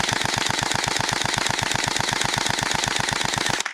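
Cheap gel blaster toy gun firing on fully automatic, a rapid, steady stream of sharp clicking shots at an even rhythm, close and loud, running continuously for nearly four seconds before stopping abruptly.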